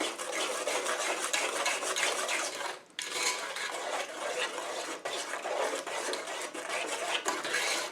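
A spoon scraping and stirring a sugary candy brittle mixture in a pot over gentle heat, a steady close rasping swish with a brief pause midway and no talking.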